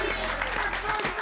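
A studio audience claps and cheers to welcome a guest onto a league football talk show, a short, dense burst of applause under a host's voice.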